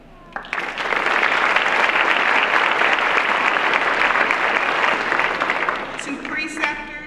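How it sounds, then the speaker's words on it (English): Warm audience applause at a university School of Pharmacy hooding ceremony, a full, steady wash of clapping from a large crowd lasting several seconds, fading slightly as a voice begins at the end. "We applaud you."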